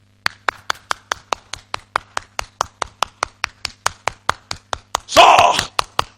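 Hand clapping at a church service driving out Satan: a single person's loud, sharp claps in a steady, even rhythm, about four per second, broken near the end by a brief breathy exhalation or sigh.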